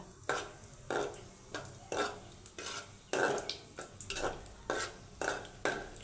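Cashew nuts going into oil that is just warming in a pot, heard as a run of rhythmic stirring and scraping strokes about every half second, with a soft background sizzle and no talking.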